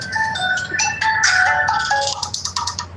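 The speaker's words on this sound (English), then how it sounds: "My damn phone's ringing." Mobile phone ringtone playing a bright, repeating electronic melody close and loud, with a faint low hum behind it.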